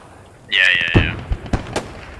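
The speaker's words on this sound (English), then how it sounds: "I've got artillery coming on it" Artillery fire in the video game Post Scriptum, set in a battle at Arnhem Bridge: a high whistling tone followed by a quick series of four sharp, booming impacts at moderate distance.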